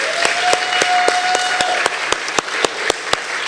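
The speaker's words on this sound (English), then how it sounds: "A round of applause for everyone." An audience at a Columbia College Chicago cultural studies capstone presentation applauds steadily, with a few sharp, evenly spaced claps standing out over the broad wash of clapping.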